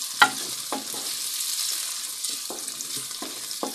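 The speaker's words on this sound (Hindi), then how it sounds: "प्याज हमारा फ्राई होने लग गया है।" Onions sizzle in a pan on the stove, a soft steady frying hiss broken by a few sharp stirring clinks and scrapes, with no talking.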